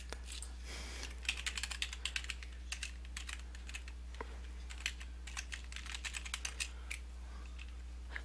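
Quick bursts of typing on a computer keyboard, clicks coming in uneven clusters over a low constant electrical hum.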